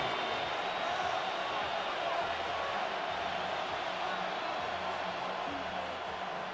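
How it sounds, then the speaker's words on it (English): Stadium crowd in a video game American football match, Carolina Panthers at Atlanta Falcons, building excitement before a big third down: a steady, distant roar of fans runs throughout beneath a commentator's voice. "the crowd getting into it as we come up on a big 3rd down"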